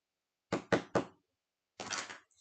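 A cardboard gift box is tapped on a craft table to knock off excess glitter: three quick, close, crisp taps, then a short pause and a longer rustling knock as the box is shaken.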